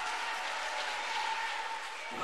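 Steady applause from a crowd, a dense even patter of clapping that holds throughout without a break.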